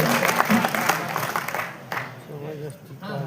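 Brief applause from the audience at a kavi sammelan poetry gathering on a Ramlila stage, a burst of clapping that fades within a few seconds as a voice begins.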